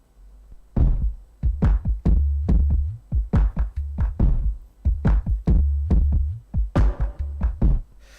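A music sample on Windows XP plays a punchy, rhythmic beat of repeated heavy low thumps with sharp percussive hits, loud and steady throughout with no talking.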